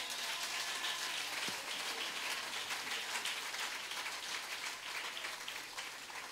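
A church congregation applauds God, a steady dense wash of clapping held at an even level throughout, broad and continuous like rain, with no voices standing out.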